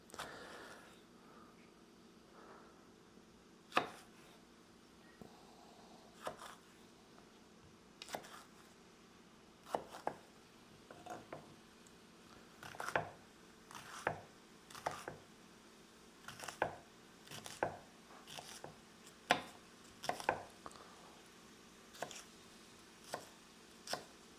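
Chillies roughly chopped with a knife on a board, seeds left in, giving sharp irregular knocks that speed into a steady run of chops, fairly quiet over a low room hum.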